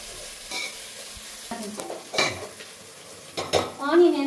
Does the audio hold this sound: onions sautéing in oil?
yes